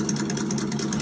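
Simulated engine from a sound module in a Redcat Gen8 V2 RC truck, a steady, close, throbbing rumble with a low, pulsing beat under light throttle, with no talking.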